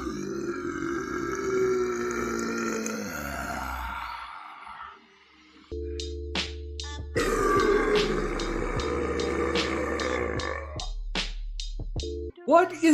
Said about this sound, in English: One minute and 45 seconds of him burping.